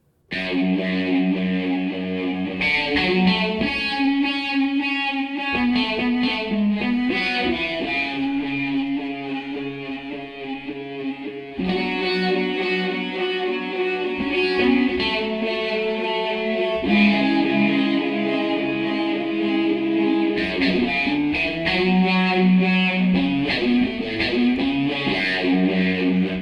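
Thick, sustained distorted electric guitar tone generated by the Nuclear VST plugin, playing loud continuous chords and riffs with harmonically rich overdrive, steady throughout with no talking.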